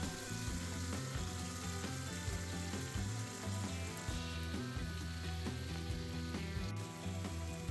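Meat cooking with tomato sauce and salt in a pan for a Turkish çökertme kebab gives a steady, continuous sizzle and frying crackle that runs the whole time without any talk.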